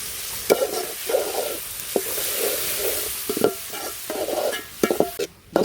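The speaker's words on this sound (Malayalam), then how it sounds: "തക്കാളി ഇട്ടിട്ട് നന്നായിട്ടാണ്ട് ഇളക്കി കൊടുക്കാം കേട്ടോ." Chopped tomatoes are stirred in a hot frying pan for a country-style chicken curry, with a constant sizzle broken by repeated scraping strokes of the spoon, all close up and without talk.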